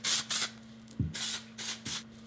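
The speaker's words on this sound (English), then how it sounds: "we're gonna go ahead and use a texture spray" Several short hissing bursts of texture hair spray from an aerosol can, close and fairly loud, in an irregular rhythm of quick pumps with brief pauses and light rubbing in between.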